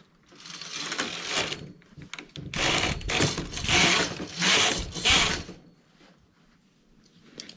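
A hand-operated knitting machine carriage is pushed back and forth across rows of knitting, giving several loud mechanical whirring sweeps with ratcheting clicks, each lasting about a second, separated by brief pauses.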